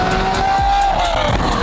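A loud, high-revving Lamborghini SVJ engine screams past, its pitch sweeping up and down over a roaring, continuous rumble.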